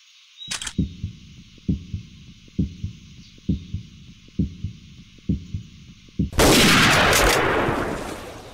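A single loud, sharp rifle gunshot during a hunt rings out near the end with a long decaying echo, preceded by a steady run of rhythmic thumping beats over a high steady hiss.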